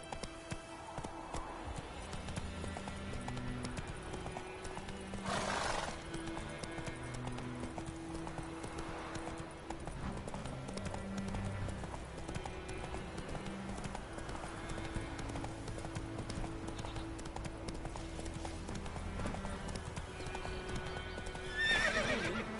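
Roach, a horse in The Witcher 3, gallops in a steady clip-clop rhythm with occasional neighs and whinnies, heard over game music and ambient sound throughout.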